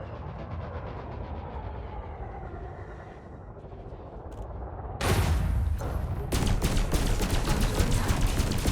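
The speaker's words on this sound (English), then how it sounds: "start off with a cannon" Heavy naval cannon fire in a video game erupts in a rapid barrage of booming blasts over a low engine rumble, loud and continuous toward the end.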